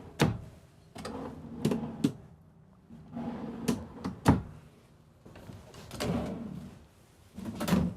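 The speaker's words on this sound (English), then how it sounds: "Down below, we'll open all these up for you guys as well. All of your kitchen drawers." Kitchen drawers in the living quarters of a Cimarron Norstar four-horse trailer being pulled open and pushed shut one after another, giving sliding rumbles and sharp wooden knocks at close range with no talking.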